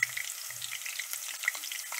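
Shallots frying in hot lard, a dense crackling sizzle that holds steady throughout, close and moderately quiet, with a couple of brief pops and no voices.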